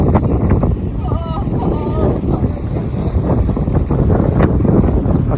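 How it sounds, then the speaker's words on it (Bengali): Strong wind blows across Tower Bridge over the river, a loud, steady rumbling roar buffeting the microphone throughout. "আজকে প্রচণ্ড বাতাস বইছে টাওয়ার ব্রিজের উপরে"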